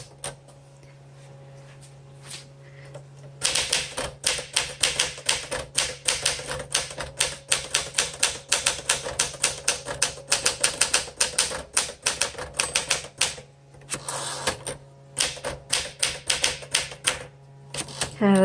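A 1961 Smith Corona Sterling 5A manual typewriter is being typed on: a quiet start with a few clacks, then a brisk, loud run of rapid keystrikes with brief pauses and the odd heavier carriage thump.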